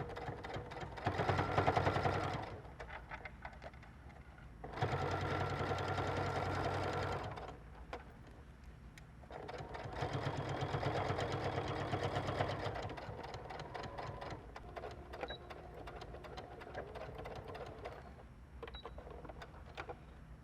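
A sewing machine stitches a jacket's button-out lining sleeve in several separate bursts, each a couple of seconds long, with quieter pauses and fabric handling between them.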